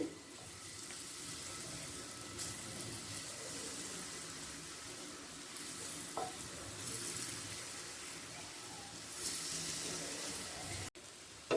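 Potato slices frying in a little oil over a gas flame turned to high, stirred and mixed with the oil; a steady, close crackling sizzle runs throughout with occasional scrapes and clinks.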